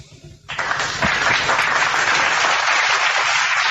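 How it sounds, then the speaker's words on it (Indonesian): A church congregation applauds during a sermon; dense, loud clapping starts after half a second and holds steady to the end, with no talking over it. "Tepuk tangan untuk Yesus."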